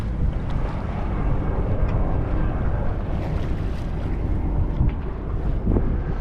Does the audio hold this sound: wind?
yes